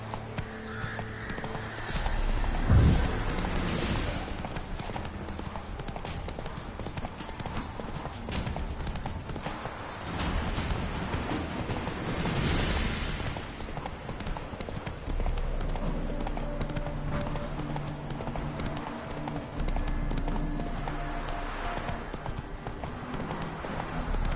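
Roach, Geralt's horse in The Witcher 3, gallops at a steady pace, its hoofbeats clip-clopping close and continuous over a layered game soundscape with music, brief speech and occasional snorts for the whole stretch.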